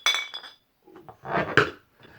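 Glasses clink in a toast, a couple of sharp bright chimes with a pause between them, close and loud, followed by faint rustling.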